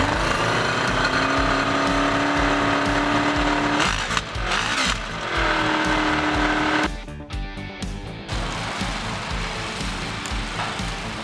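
Motorcycle that had sat in a shed for two years, its engine running with a rough, steady, pulsing idle close by, the note dipping and shifting partway through.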